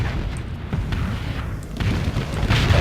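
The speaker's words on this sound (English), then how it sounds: "Fire off some of my missiles" Missiles launching and exploding in the space combat game Starsector, a run of deep booms and bursts that builds louder toward the end.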